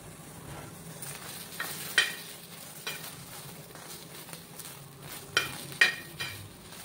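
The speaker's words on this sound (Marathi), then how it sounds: "इथे छानपैकी मिरच्या आपल्याला भाजून घ्यायच्या आहेत" Green chillies roast in a pan with a soft, low sizzle, punctuated by several sharp scrapes and taps of a stirring utensil against the pan at irregular intervals.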